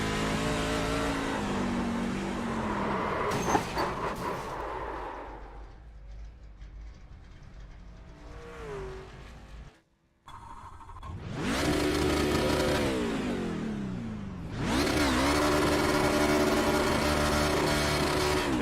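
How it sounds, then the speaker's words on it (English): An iRacing race car on worn tyres drifting, its engine revving and climbing through gears with loud, near roaring pulls, a brief dropout midway, then renewed hard acceleration. "I think the tyres are worn enough so we can do a bit of drifting now."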